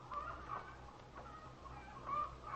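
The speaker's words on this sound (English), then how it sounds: "Sounds like the chickens are extra hungry this morning." Hungry chickens cluck softly in a 1940s old-time radio drama sound effect, a faint, low scatter of clucks and brief squawks recurring through a short stretch.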